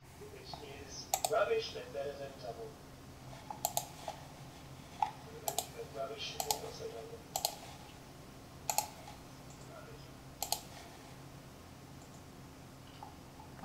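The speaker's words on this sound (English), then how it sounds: "Oh, now you can hear my clicking." Sharp computer mouse or keyboard clicks come through a low-quality webcam microphone, arriving singly and in small clusters at irregular intervals over a steady background hiss.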